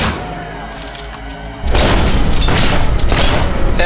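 Gunfire aimed at a boss in a Fable 3 fight, a steady roar of booming, crackling shots that erupts after a quieter rumbling stretch and stays loud and continuous to the end.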